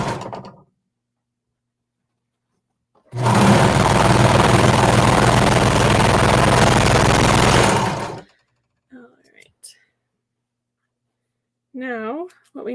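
Sewing machine stitching a jacket seam runs in one continuous loud whirring burst for about five seconds, preceded and followed by short bits of talking.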